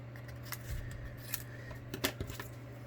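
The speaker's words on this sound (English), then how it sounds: "I'm just going to cut this out with my snips" Hand snips cut out a piece of cardstock for a small paper box, giving a few quiet, crisp snipping clicks spread over a few seconds in a hushed room.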